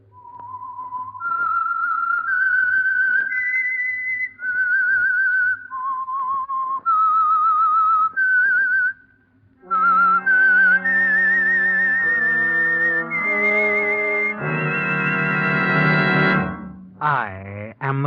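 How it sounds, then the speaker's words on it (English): A lone whistler performs the eerie theme tune of The Whistler radio show, a slow rising and falling melody of sustained notes; partway through an orchestra joins in and swells to a loud finish. "That whistle is your signal for the Signal Oil Program"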